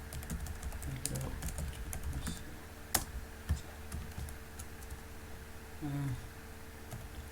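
Typing on a computer keyboard while writing an index.html file for an Express.js web server, with soft irregular clicks and taps near the microphone over a steady low hum, no voices.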